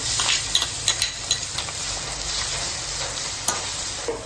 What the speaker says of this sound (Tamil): வெங்காயம் போட்டுருவோம்.